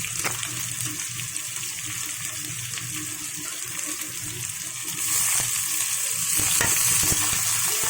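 Onions and lightly fried potatoes sizzling in a pan for biryani, a dense continuous frying hiss with occasional stirring scrapes, growing louder and brighter for the last few seconds.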